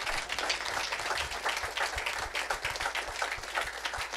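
A congregation at a French-language Sunday worship service applauds steadily for the Lord, a dense, continuous wash of clapping that holds at an even level throughout.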